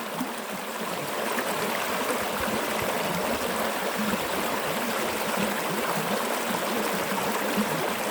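Fast-flowing stream water rushing steadily and close by while a container is filled, a constant broadband wash with no talk.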